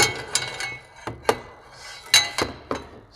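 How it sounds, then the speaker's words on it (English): A torque wrench fitted with a double extension clinks and clunks against metal while a secondary catalytic converter delete kit is installed under an Aston Martin DB9. The knocks are sporadic and close, with quiet gaps between them. "So I put a double extension together on my torque wrench to get a little bit more throw here"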